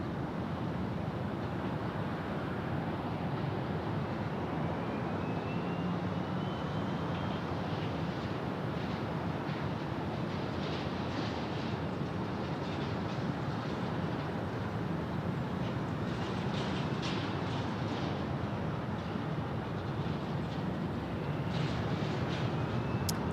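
United 711 airliner landing on runway 8 at Phoenix Sky Harbor, a steady broad rumbling roar of jet engines and airflow held throughout, loud and continuous with no talk.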